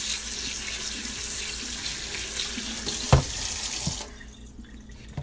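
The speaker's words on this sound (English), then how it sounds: "I'm going to rinse it out with hot water." Hot water runs steadily from a tap into a sink, splashing with a brief knock partway through, then the flow shuts off abruptly, leaving near quiet.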